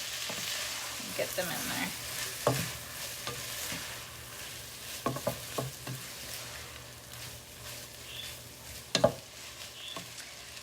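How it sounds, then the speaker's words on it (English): Strips of rajas, roasted pepper, sizzle in a frying pan with scraping stirs and clacks of a utensil, close by, while someone talks briefly over the cooking. "you're gonna add your rajitas. Cook those for a bit."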